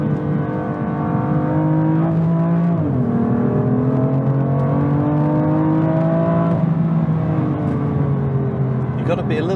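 A BMW engine, M4 CP or M140i, revs hard toward 7,500 rpm, a loud, steady rising drone that dips briefly as it shifts and then climbs again. It sounds close and continuous, with no voices.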